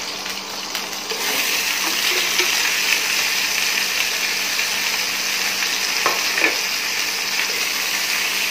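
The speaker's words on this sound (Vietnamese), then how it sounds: "mấy cái nguyên liệu cà rốt, khoai tây, hành tây rồi mình sẽ cũng chiên sơ qua cho nó hơi vàng vàng này" Diced carrots, potatoes and onions fry in a pan as the base for a chicken curry, giving a steady, close sizzle with occasional stirring scrapes and no talking.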